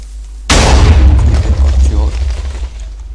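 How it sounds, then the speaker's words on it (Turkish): A TNT launcher blast in the Minecraft video game, one sudden loud boom followed by a long rumbling decay, with someone talking in the background. "Aynen havada patladı."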